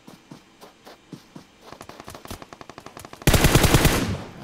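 Gunfire in a competitive shooter game, single shots at first that speed into rapid bursts, then a loud sustained full-auto burst near the end, close and alone.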